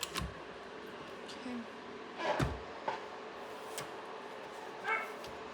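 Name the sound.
small dog barking and whimpering to come in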